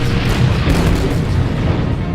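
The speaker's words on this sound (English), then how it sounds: "Firing cannons, Barbossa blasted the tangled masts apart." Cannons firing from pirate ships in a sea battle, a continuous dense rumble of heavy booms layered into a steady, loud roar with no voices over it.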